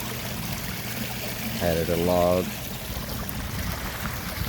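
A small backyard pond waterfall spilling into a little creek gives a steady, close rushing trickle that runs throughout, with someone speaking briefly over it partway through.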